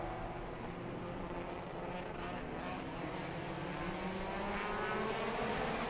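Racing cars of the Toyo Tire Racing Car Thailand series roar into the straight at Bira Circuit in Pattaya, a steady, distant engine drone that slowly swells in pitch and loudness as the cars approach.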